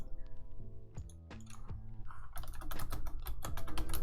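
Close-up keyboard typing, rapid clicking keystrokes in quick irregular bursts, with soft background music underneath.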